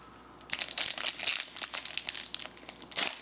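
Retail pack of 2017 Panini Prizm football cards being ripped open, a close, crinkly foil-wrapper crackle and tear that runs in bursts for about three seconds.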